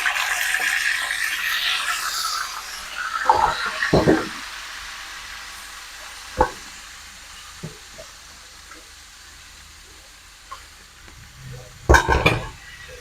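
Oil sizzles steadily in a pan as tuna fish fries, broken by a few sharp clanks and scrapes of a utensil against metal, with no voices.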